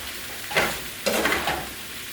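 Pieces of stewed pork and eddoes tossed and stirred in a hot pot, a few scraping, sizzling stir strokes close up with quiet frying underneath.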